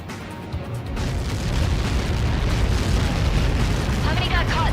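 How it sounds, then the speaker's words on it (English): A large explosion from a Helios projectile strike in the air-combat game Ace Combat 7, heard as a loud, sustained rumbling roar that fills the whole stretch without letup, with rushing noise and faint wavering tones near the end. "How many got caught in that explosion?"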